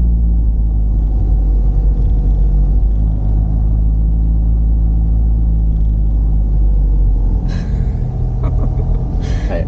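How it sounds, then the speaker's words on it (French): A car pulls away in first gear during a driving lesson, its engine holding a loud, steady low rumble close by, followed near the end by a few brief clicks and knocks from the cabin. "Embrayage à fond, première vitesse, et on avance."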